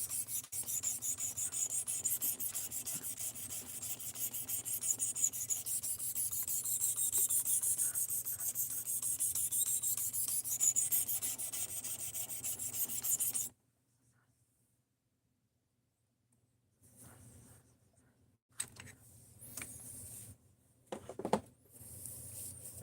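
A knife blade grinding against the stone of a sharpening system, shaping a crude bevel near the tip: a steady close rasping rub with repeated strokes, then a stretch of silence followed by a few brief scraping bursts.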